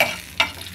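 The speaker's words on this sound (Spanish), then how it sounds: "La cebollita dorándose" Chopped onion frying in a pan in a Salvadoran home kitchen, a soft steady sizzle with a brief scrape of stirring partway through, close and moderately quiet, with no voices.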